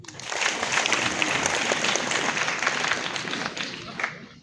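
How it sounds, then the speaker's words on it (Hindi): Audience applause at the inauguration of a Maharashtra–Jammu & Kashmir friendship chapter, a dense, steady clapping from a crowd that holds for several seconds and tapers slightly at the end. "जोरदार तालियां।"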